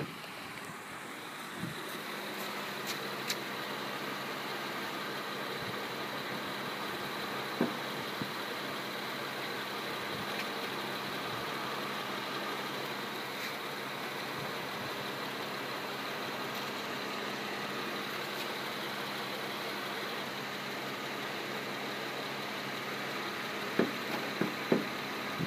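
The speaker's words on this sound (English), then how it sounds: "Let's go ahead and pop the hood." A 2010 Honda Odyssey SE Tour engine idles with the hood open, a steady, even hum with faint mechanical whir and a few light clicks and knocks near the end.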